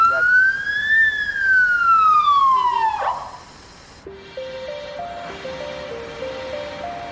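A 100-watt Whelen police car siren wails loudly and close, sweeping up and down for about three seconds, then cutting to a stepped electronic yelp pattern with faint background noise.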